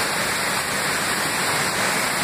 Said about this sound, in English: I'm at the lower falls on Mills Creek. This fall is about 65 feet high.